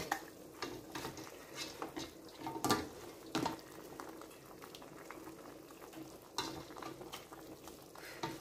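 Onion and tomato sauce with chili simmering in a pot, a quiet, steady bubbling and faint crackle with occasional soft clinks and stirring noises, close up and low in level.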